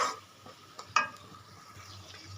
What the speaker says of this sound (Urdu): اس کو میں 2 منٹ کے لیے اس کو بھون لوں گی